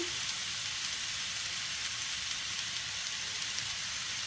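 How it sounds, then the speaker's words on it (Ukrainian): Steady hissing sizzle of apples sprinkled with sugar frying in a hot pan, continuous and even throughout, with no talking. "На розігріту сковорідочку кладемо яблучка, посипаємо цукром."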